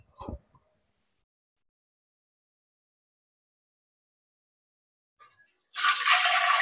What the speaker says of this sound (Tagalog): lalagyan ko muna ng tubig